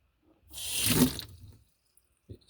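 Water released through the 3 bar safety valve of an Immergas Victrix 26 condensing boiler, a single hissing gush of roughly one second that rises and fades, followed by a faint short knock.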